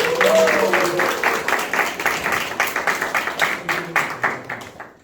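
Audience applause after a talk at a gospel training class, a quick burst of clapping fading into scattered, uneven claps, with voices audible beneath.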